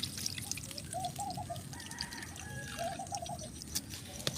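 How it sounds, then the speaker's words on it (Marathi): Lentils (dal) are rinsed in water, with a faint, quiet pouring and gentle bubbling trickle, soft and close against a low background hiss, with no speech. "हे डाळ आपण धुवून टाकूया"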